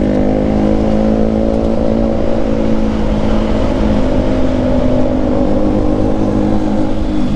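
A loud, steady Rouser motorcycle engine roar from an SC Project aftermarket exhaust, holding a constant throaty drone up close without pauses or voices.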